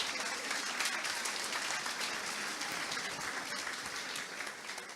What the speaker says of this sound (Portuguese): eu queria pedir uma salva de palmas a vocês mesmos que estão fazendo isso